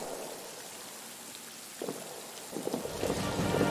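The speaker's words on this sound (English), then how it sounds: "Oh, it's still raining." Steady rain hisses throughout a trench warfare game scene, with low rumbling thunder swelling in near the end, no voices present.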